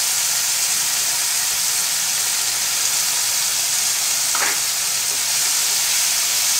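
Idli manchurian frying in a pan after soy sauce and tomato ketchup go in: a steady, close, even sizzle with one brief scrape partway through, no voices.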